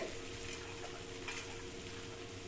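Radish chutney ingredients with tomato sautéing in a pan, a soft steady sizzle with faint stirring scrapes, quiet and continuous with no talk.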